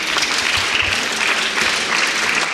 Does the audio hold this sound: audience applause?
yes